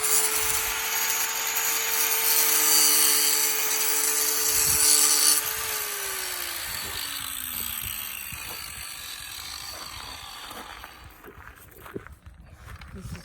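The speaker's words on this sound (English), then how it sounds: "trimming down the bumper" A power tool cuts through an RV bumper, a steady buzzing whine with tonal harmonics lasting several seconds before winding down, followed by scattered clatter and handling noises.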